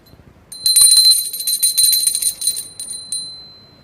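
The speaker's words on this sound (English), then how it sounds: "You can hear the sound of the bell with the help of your ears." A school bell rings loudly and close, with bright sustained metallic tones starting abruptly, holding for a few seconds and then trailing off, no talking.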